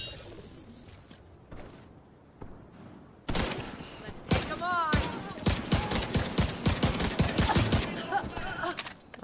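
Bursts of rapid weapon fire in The Division 2 crackle loudly and close, dense volleys following a quieter stretch of scattered shots, with a voice talking faintly in places.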